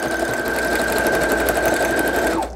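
A sewing machine runs steadily, stitching a zigzag pattern on fabric for a junk-journal belly band, a continuous close whirring hum that slows and stops at the end.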